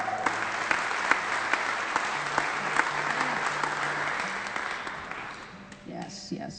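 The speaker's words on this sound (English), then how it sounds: "How about another round of applause for the wonderful Mr." An audience at an acoustic concert claps and cheers for a musician, steady applause with someone talking over it that gradually fades, followed by brief speech.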